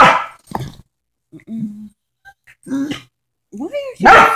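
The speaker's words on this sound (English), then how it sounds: "Yap, yap, yap. That's all you ever do." A small dog gives short, sharp, high yips in separate bursts, close and fairly loud, with voices around it.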